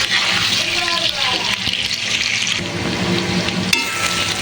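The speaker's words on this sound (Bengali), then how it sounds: "এদিকে আমি আলুগুলোকে ভেজে নিচ্ছি ভালো করে।" Potatoes fry in a pan for a large batch of chicken kosha, giving a steady, loud sizzle and bubbling with some stirring scrapes throughout.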